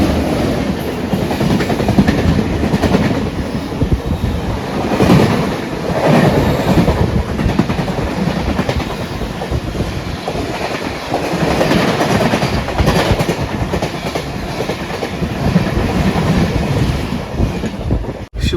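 Khandesh Express passenger train running steadily on the rails toward Dadar, a continuous loud rumble with rhythmic clickety-clack of wheels over rail joints and some wind buffeting, no talk.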